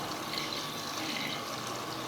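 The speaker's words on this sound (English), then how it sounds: "Now to that I want to add water." Water poured steadily into a mutton handi pot, a continuous splashing, trickling rush heard close up throughout, with no talk.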